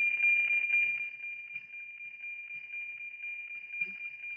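A steady high-pitched tone from a NOAA weather satellite APT signal received through an SDR Play receiver, holding unbroken and fairly loud with faint static and a brief low bump near the end.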